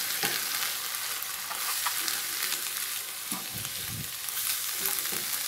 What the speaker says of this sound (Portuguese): Vou colocar um pouquinho de farinha e você vai mexendo.